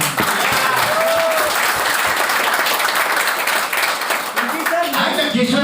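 Audience applause at a live speech event in Ahmedabad: loud, dense clapping from a large crowd that runs steadily for the whole stretch, with voices mixed in.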